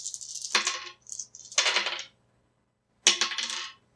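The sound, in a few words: dice rolled for Era: Survival tabletop game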